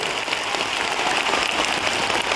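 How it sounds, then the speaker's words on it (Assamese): Audience applause at a gathering: a dense, sustained wash of many hands clapping at once, steady and fairly loud from start to finish, with no speech over it. "আৰু এই হাত চাপৰি হৈছে আশীৰ্বাদ"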